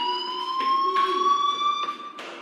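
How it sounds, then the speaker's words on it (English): A fire alarm in the video game Life Is Strange: Before the Storm rings with a loud, steady electronic tone that pulses slightly, sounding alone without any talk. "do you hear that fire alarm? That means you should be outside."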